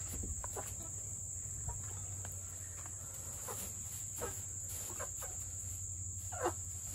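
A backyard chicken housed in a coop built from an IBC tote gives a few faint, brief clucks over a steady, loud chorus of crickets, with no talking.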